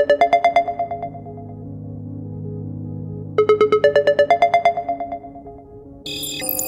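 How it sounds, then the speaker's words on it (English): A phone ringtone plays a bright, repeating melodic chime in two bursts over a low steady hum, ending in a sudden burst of noise. "Answer your phone, Vanellope."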